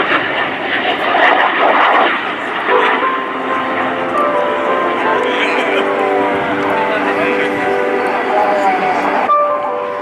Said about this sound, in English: This is the tail slide of the solo pilot of Frecce Tricolori.